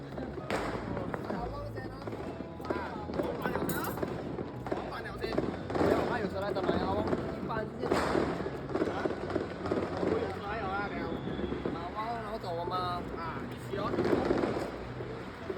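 Firecrackers and fireworks burst along a street during Chinese New Year celebrations, sharp pops and crackles scattered irregularly through the scene, mixed with people talking nearby and busy crowd noise.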